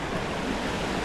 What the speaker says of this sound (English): let's go over here to this big waterfall.